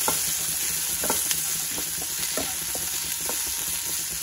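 Spring onions and paneer fry in a hot pan while being stirred, giving a steady close sizzle broken by a few light scraping knocks of the spoon, with no voices.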